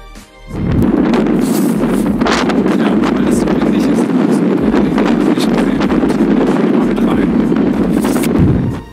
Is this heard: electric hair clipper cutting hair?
no